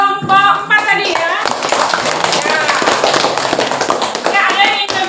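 Hand clapping from a classroom group in Indonesia, a fairly close, dense burst of claps lasting several seconds, with voices and a sung-like vocal tone mixed in around it.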